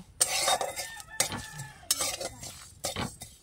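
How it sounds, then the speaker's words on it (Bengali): Spices for a chalta (elephant apple) pickle are dry-roasted in an oil-free pan. A spatula scrapes and stirs in four distinct strokes with short pauses between, close and clear, with no talk. "মশলাটা কিন্তু ভালো করে এই যে ভেজে নিয়েছি শুকনো খোলায়"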